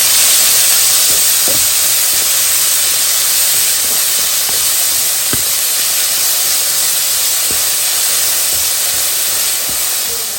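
Onion and curry leaves frying in hot oil in a pan after mustard seeds: a loud, steady sizzling hiss fills the whole span, with a few faint pops and crackles scattered through it.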